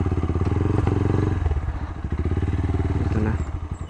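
A motorcycle idles close by with a steady throbbing putter while it is being parked, with some clatter and light thumps over the engine.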